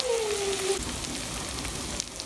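Onions fry in a pan for a home-cooked Sunday non-veg meal, a steady close sizzle with a crackling hiss throughout and no talking.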